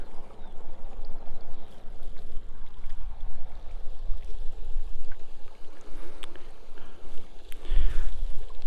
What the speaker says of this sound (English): So that would be this river that we're stood by now.